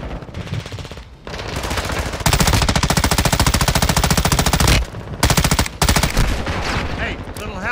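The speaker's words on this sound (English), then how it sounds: "Taking fire over here." Rapid automatic gunfire in a battle royale shooter video game, loud, dense bursts of machine gun fire rattling almost continuously with brief gaps, under some voice chat.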